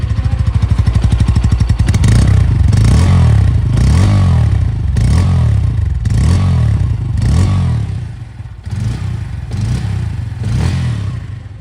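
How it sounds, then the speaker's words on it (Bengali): A 2026 Bajaj Pulsar N160 with an underbelly exhaust revs close and loud in a series of sharp, rising throttle blips over a steady idle, with no talking. "সবার আগে চলুন এই বাইকের সাউন্ডকে একবার শুনে নেওয়া যাক"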